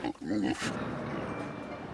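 Pigs on a farm grunt and oink close by in short bursts, mixed with a voice speaking over the animal noise.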